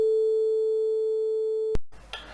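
A steady pure 440 Hz A sine tone from a synthesizer holds for nearly two seconds, then cuts off abruptly with a click, followed by quiet noise.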